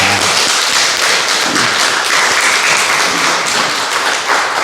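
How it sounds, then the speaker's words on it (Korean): A church congregation at a Sunday morning worship service applauds loudly and steadily, a dense wash of many hands clapping at close range that holds for the whole stretch with little talk. "우리 수고하는 도지사를 위해서 우리 뜨겁게 응원 박수 한번 부탁드리겠습니다."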